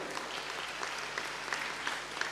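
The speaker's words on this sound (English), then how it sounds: "A big round of applause for the man who made India think" Audience applause at a leadership lecture in honour of cricketer Sunil Gavaskar, steady dense clapping from a large crowd with a few sharper claps standing out, no voices on top.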